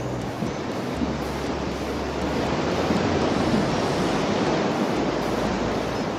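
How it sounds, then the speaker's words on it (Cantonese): Sea waves wash against the rocky columnar-basalt Jogasaki coast near Ito on the Izu peninsula, heard from a suspension bridge above as a steady, loud, broadband roar that swells slightly midway, with no talking. "一路聽住啲海浪聲同埋雀仔聲"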